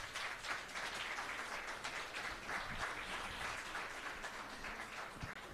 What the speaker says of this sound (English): Can we give Alex another round of applause?